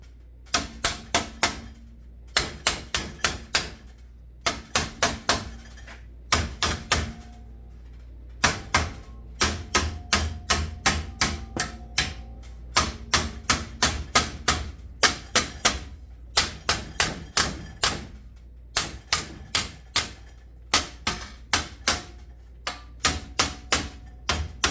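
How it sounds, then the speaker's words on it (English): Hammer and dolly shaping a sheet metal floor pan clamped in a vise, for a 1963 Ford F100 build: close, sharp metallic blows in rapid bursts of several strikes, separated by short pauses, with no talk. "So now I can just go back around with the hammer and dolly"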